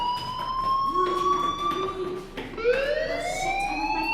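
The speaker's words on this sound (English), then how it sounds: "Hey, do you hear that fire alarm? That means you should be outside." In the video game Life is Strange, a school fire alarm wails with rising and falling electronic tones. It is loud and continuous, and faint background sounds are heard beneath it.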